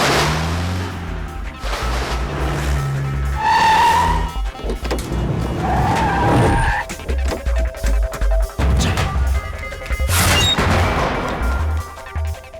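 A car in a Tamil action film chase (Pokkiri, 2007) roars off with loud tyre squeals and skids, sharp impacts and whooshes layered in a busy, continuous movie soundtrack, with no talk.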